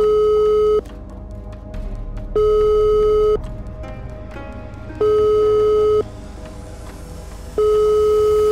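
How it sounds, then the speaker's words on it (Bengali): A telephone ringback tone repeats in a steady pattern, long electronic beeps alternating with pauses, as a call goes unanswered; the tone is loud and clear over a faint background hum. "কয়েকবার ফোন বেজে গেলেও ফোনটা ধরে না"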